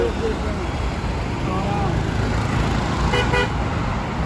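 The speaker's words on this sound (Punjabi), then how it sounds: "ਗੱਡੀਆਂ ਇੰਨੀਆਂ ਤੇਜ਼ ਆਉਂਦੀਆਂ" Busy road in Chandigarh with fast vehicles rushing past in a steady traffic roar and a short horn toot near the end, while a voice talks over it.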